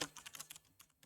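Typing HTML code on a computer keyboard: a quick, close run of soft key clicks, irregular but rapid, alone without talk for about a second.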